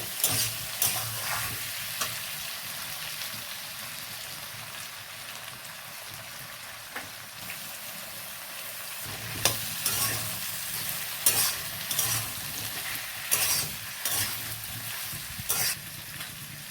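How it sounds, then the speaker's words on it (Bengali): Potato, pointed gourd and carrot pieces fry in oil in a pan, producing a continuous crackling sizzle broken by intermittent scraping stirs that cluster more densely in the second half. "আলু আর পটলগুলো ভাজা হয়ে গেছে প্রায় অর্ধেক এবার আমি গাজরগুলো দেব"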